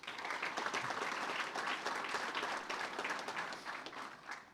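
Sustained applause from an indoor crowd at a dispatch and emergency operations center dedication, honoring construction firms HDA and Core Construction; steady, dense clapping throughout with no speech.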